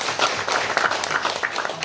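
Clapping from a small audience at a Deccan Healthcare company meeting in Ranchi, Jharkhand: scattered, uneven hand claps that build briefly, fairly close, with no talk.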